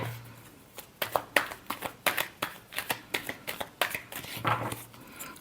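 Tarot cards being shuffled in quick riffling bursts, a steady run of crisp papery flutters and slaps, close and fairly quiet, with no talking.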